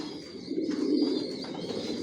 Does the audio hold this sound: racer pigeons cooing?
yes